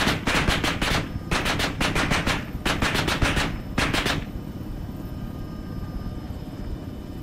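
Bursts of automatic gunfire in the Arma 3 video game, four rapid strings of sharp shots separated by short gaps, loud and close over a continuous helicopter-like rotor and engine rumble that carries on after the firing stops.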